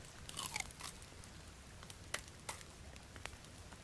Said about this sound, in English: I'm going to eat some candy bars.